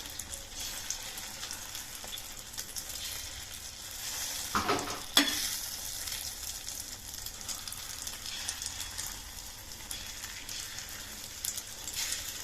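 Beaten egg batter for a homemade omelette sizzles steadily in a hot pan as it is spread out, a continuous close frying hiss with a brief louder scrape of stirring midway.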